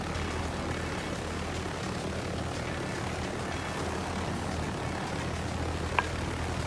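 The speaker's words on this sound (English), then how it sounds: "And that dude doesn't hear the helicopter." A helicopter in the Roblox game Take a Seat drones steadily and faintly in the background, with its rotor and engine hum continuous throughout and no talk.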